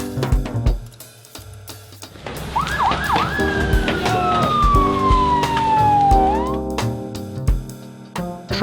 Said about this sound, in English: Police water cannon truck.